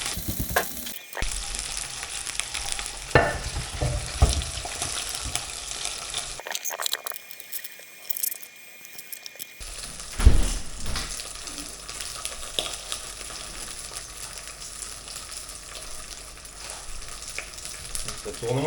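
Black bass fillet frying in a pan, a steady crackling sizzle that drops away briefly in the middle, then resumes with scattered clatters and faint kitchen handling noise.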